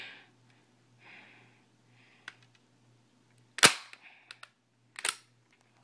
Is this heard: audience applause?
no